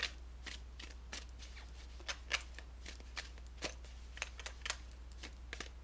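Soft, close riffling and snapping of tarot-style cards being handled and shuffled for a pick-a-card reading, in irregular bursts over a steady low hum, with no talk.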